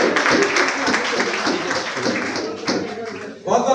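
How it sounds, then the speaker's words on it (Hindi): An audience claps in a dense, continuous burst at a Women's Day ceremony honouring women, with voices talking over and through the applause; it thins briefly before a final swell. "तालियां बजाइए।"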